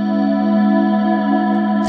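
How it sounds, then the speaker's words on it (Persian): A soft synthesizer pad preset holds a steady, sustained chord with layered harmonics, playing alone at an even, fairly loud level throughout. "یکی از صدایی که خیلی دوستش دارم این صدای پدمه پد خوشگل ساختم"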